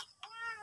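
A cat meows twice in close succession, the second call a long, drawn-out wail, loud and near with no talking over it.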